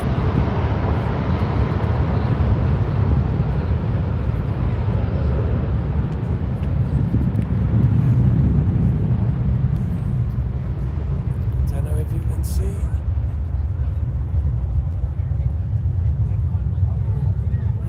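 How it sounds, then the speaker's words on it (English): A private jet takes off near a motor show, producing a broad, steady low roar that gradually thins and fades toward the end. "Oh, another private jet here taking off."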